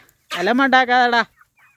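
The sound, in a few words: chickens clucking while pecking food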